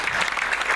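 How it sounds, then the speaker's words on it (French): Crowd applause at the podium ceremony of a Brittany national car rally, a brief burst of dense, fairly loud clapping from gathered spectators. "Allez, on applaudit"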